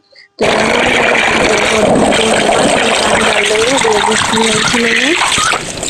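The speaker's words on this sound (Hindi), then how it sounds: "पाइप लगा के ऊपर से ही क्यारी में पानी डाल देते हैं" Water gushes loudly and continuously from a hose pipe onto a rooftop garden bed, a steady close rushing flow with faint voices underneath.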